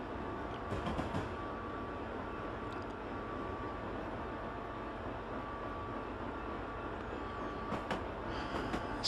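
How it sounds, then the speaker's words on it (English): A freight train rumbles steadily past in Train Simulator 2015 on Sherman Hill near Laramie, a dense, continuous roar of rolling wagons holding at an even level throughout. "Still meeting freight trains."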